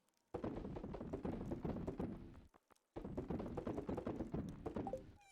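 Horse hooves clip-clop in the video game Stardew Valley. The steady, rhythmic trotting runs in two bursts with a short pause between them. No one talks.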